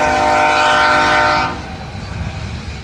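A BNSF grain train rolls through the Fostoria, Ohio diamond interchange, its horn blaring loud and steady for about a second and a half before cutting off, leaving a low rumble of rail cars behind.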